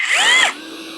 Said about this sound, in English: turning on the drill